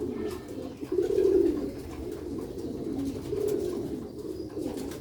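Light, black-faced Sheikh pigeons coo in a steady run of soft, rounded calls, repeating every second or so up close with no talk over them.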